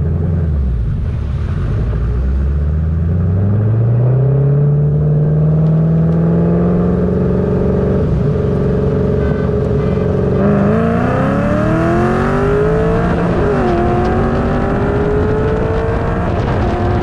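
A Dodge Viper with a tuned 8-liter V10 races an all-motor 4.6 Mustang: loud, continuous engine roar climbing in pitch through the gears, with shift breaks, heard close throughout.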